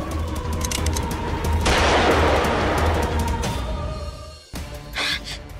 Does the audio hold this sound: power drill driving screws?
no